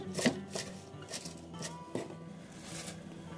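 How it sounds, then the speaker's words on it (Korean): A knife chops through spring cabbage on a cutting board in a quick series of crisp, close strokes. "저는 봄동을 썰어주기도 하고 반으로 잘라주기도 했답니다."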